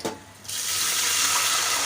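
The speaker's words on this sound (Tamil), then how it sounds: "இப்போ இதில் வந்து நம்ம தண்ணி சேர்க்க போகிறோம்" After a brief quiet moment, tap water rushes steadily into a cooking pot for a rice and green gram tiffin, a close, even, splashing flow that fills the rest of the short stretch.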